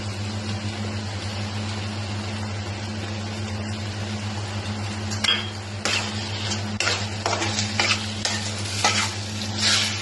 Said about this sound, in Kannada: ಇದು ಆಯಿಲ್ ಬಿಡುವವರೆಗೂ ಫ್ರೈ ಮಾಡೋಣ ಫ್ರೆಂಡ್ಸ್